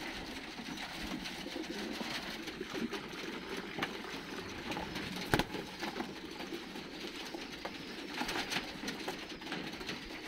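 Domestic pigeons cooing softly in a loft, faint low murmuring calls repeating over a quiet background with a single brief knock midway.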